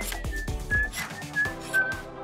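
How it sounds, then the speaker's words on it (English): Someone whistles a short, bright melody of several rising and falling notes, close by and fairly quiet. "whistling while whittling"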